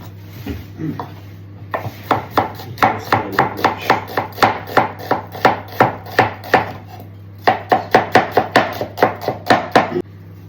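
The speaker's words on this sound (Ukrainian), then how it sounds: "Причому я люблю цибулю нарізати отакими півкільцями, отак." Onion sliced into half rings on a board, a quick series of sharp knife chops, close and crisp in steady bursts with a short pause before a final run, no talking.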